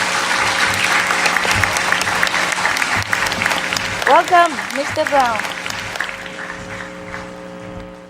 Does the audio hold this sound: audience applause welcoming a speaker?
yes